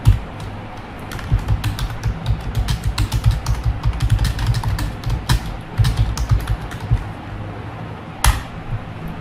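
Numbers typed on a computer keyboard during a typing practice lesson, a steady stream of quick, close key clicks with a few louder taps and a low hum underneath.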